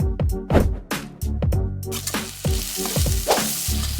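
Ginger-garlic paste, green chilli and chopped tomato fry in a pan for a poori masala, giving a close, steady sizzle with stirring scrapes, layered over tonal background music and no talk.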